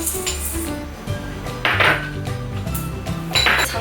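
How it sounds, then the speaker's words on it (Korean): Toasted golden slivered almonds being crushed by a gloved hand, giving a few crisp, brittle crunching bursts close by over a steady low background. "이렇게 노릇노릇하게 구워진 견과류를 조금씩 부셔주시면 되는데"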